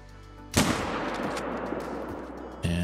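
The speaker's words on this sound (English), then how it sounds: "Let's shoot it if we can." A single loud, close rifle shot cracks and rolls away across open hunting ground in theHunter: Call of the Wild, followed near the end by a second, sharper report.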